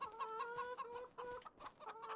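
Chickens clucking in the video game Farming Simulator 25, repeated tonal clucks in a quick uneven rhythm, faint and close, with no talk.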